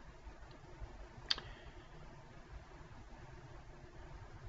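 A single sharp mouse click lands about a third of the way in, made while connecting in a Windows Mobile FTP client, over a quiet background hiss with no voices.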